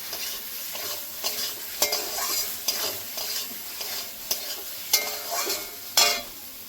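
Potatoes being stirred into fried spice paste in a pan for an egg and masoor dal kofta curry, with a spoon scraping and clinking in an irregular rhythm over a steady soft sizzle of oil, close by.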